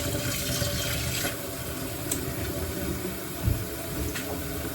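Steady stream of running tap water splashing onto blueberries in a container, continuous and close, with a faint knock near the end.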